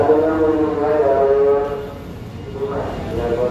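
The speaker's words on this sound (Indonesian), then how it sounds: "Oke, kita masuk kereta." Steady low rumble of a commuter train interior with a tonal horn-like hum rising and falling, voices murmuring faintly in the background.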